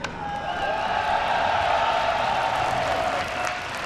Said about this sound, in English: Do you want to give it up, Polish audience, for MaNa?